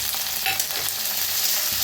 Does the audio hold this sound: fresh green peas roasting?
yes